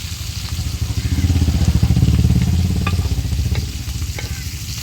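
Kanangeluthi mackerel frying in a pan for a fish fry, loud and close, with a steady oily sizzle that swells and pulses as the pieces are stirred, plus occasional light clinks.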